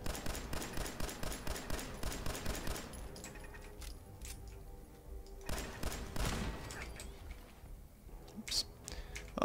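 Gunshots ring out in a Fallout video game, a rapid string of sharp close reports at first, then scattered single shots and thuds among quieter game sounds.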